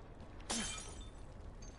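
A glass bottle shatters once in The Last of Us, a sharp, bright crash followed by a short tinkling decay over a quiet game background.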